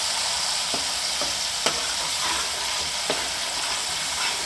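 Ingredients for a Rayalaseema-style fish curry fry in a pan while being stirred, a constant close sizzle punctuated by several light scraping ticks of the spatula.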